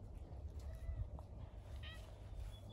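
A cat meows a few times, close by, over a low steady background hum.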